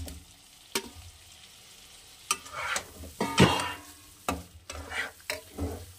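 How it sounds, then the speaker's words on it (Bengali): Fried potatoes drop into a pan of sizzling Bengali-style aar fish curry, bringing bursts of stirring and frying with several sharp clatters of spoon against pan, close and moderately loud, with no talking. "এবারে দিয়ে দেবো ভেজে রাখা আলুগুলো।"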